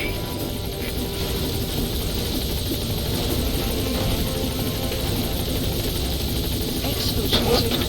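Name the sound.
helicopter arriving at landing zone in video game Metal Gear Solid V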